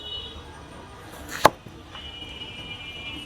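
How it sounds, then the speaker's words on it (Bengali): A single sharp knife chop into a bottle gourd on a board, one crisp thud standing out from a quiet street-side background hum. "কুচি কুচি করে দিব হ্যাঁ ভাই?"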